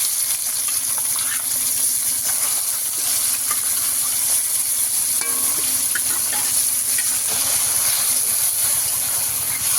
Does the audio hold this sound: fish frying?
yes